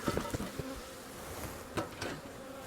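Honey bees buzz around an opened beehive during an inspection as a little smoke is puffed in, a steady droning hum with a few nearer passes and faint handling knocks.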